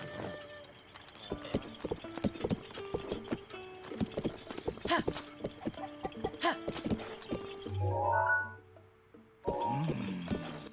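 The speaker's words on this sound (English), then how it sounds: "And you can whistle for your horse." A horse in The Legend of Zelda: Breath of the Wild trots and gallops with steady clip-clop hoofbeats and clattering tack. A short whistle-like tone follows, then a neigh near the end.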